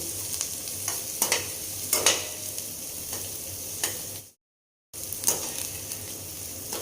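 Onion stir-fried in a pan for poha, a close steady sizzle punctuated by spatula scrapes and clicks, broken by a brief moment of silence before the frying resumes, no talking.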